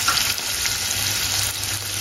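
Garlic and curry leaves fry in hot oil for paneer 65, a loud, steady, close crackling sizzle that runs without a break and has no voices over it.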